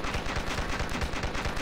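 Rapid machine gun fire from the zombie survival game Dead Ahead: Zombie Warfare, a dense continuous rattle of close, loud shots with no gaps, heard alone.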